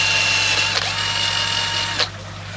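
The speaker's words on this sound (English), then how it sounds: "Just put a little pilot hole there, and we're just going to do a little drill through there like that" A small drill bores a pilot hole for a shrimp tank matten filter in a shed, giving a steady whirring mechanical drone with a brief catch in the middle and an abrupt stop near the end.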